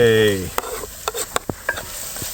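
Onions being stirred in a pan at a riverside campsite, a brief sizzle followed by several scraping, clattering stir strokes, close and fairly quiet.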